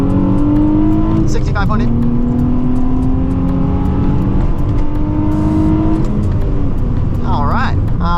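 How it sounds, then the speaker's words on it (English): Nissan 350Z pulling hard from second gear, the engine note climbing steadily in pitch as it revs up before a gear change, loud and close from inside the car, with a brief spoken remark partway through. "So let's give it an acceleration, you know."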